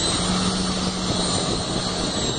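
A WT-500 lab homogenizer running at 10,000 RPM gives a steady, loud, continuous whirring drone with a broad hiss and a faint low hum, unchanging throughout with no speech.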